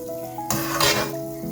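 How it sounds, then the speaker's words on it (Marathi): The first batch of kulkul sweets fries in a pan, giving a short bright sizzle with a clink of a utensil against the pan, close and clear, with no talking. "आनी हांव हिंगा न्ही फर्स्ट लॉट भाजून घेवंक लागला"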